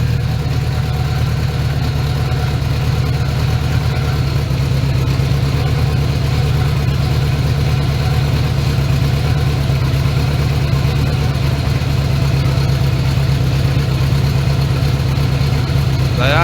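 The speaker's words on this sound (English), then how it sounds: "you can even hear that the motor is running a little bit more smoothly now" A Honda Goldwing GL1100 motorcycle engine idles steadily up close during carburetor synchronization, giving a continuous low, even rumble throughout.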